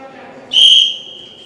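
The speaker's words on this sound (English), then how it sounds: "We could hear the whistle." A single sharp, shrill whistle blast at a horse riding show-jumping event rings out for about half a second over a quiet, distant background.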